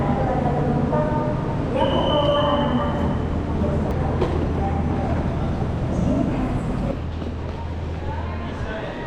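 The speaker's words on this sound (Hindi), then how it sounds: "ये है जी ट्रेन।" A high-speed bullet train rumbles steadily at Bandung station in Indonesia, with a loud continuous roar, a brief horn-like tone early on and a speaking voice over the noise.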